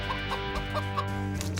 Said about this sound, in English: Nobody told me chickens could fly.